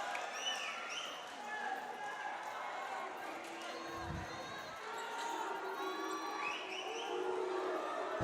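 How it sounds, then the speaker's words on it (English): A Batangas basketball crowd at an NBL Governor's Cup game against Taguig roars and jeers during a free throw, a sustained, distant wash of voices in an arena with shouts, a ball bounce and commentary over it. "You could hear the boos from the Batangas crowd trying to distract the free throw shooter."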